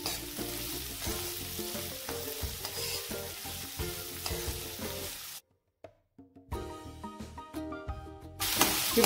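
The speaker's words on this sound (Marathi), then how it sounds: "2 बारीक चिरून घेतलेले कांदे टाकले आहेत. ते गोल्डन ब्राऊन होईपर्यंत परतून घेणार आहे आपण." Two finely chopped onions frying in a pan until golden brown, a loud continuous sizzle and crackle with rhythmic stirring scrapes, briefly dropping out before resuming strongly.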